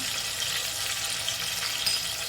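Tomatoes fry in hot oil in a pot, making a continuous bright hiss of sizzling that stays even and close throughout, with no talking.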